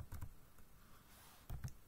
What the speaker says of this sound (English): I'm just typing the wireless key which is mentioned at the back of my Wi-Fi extender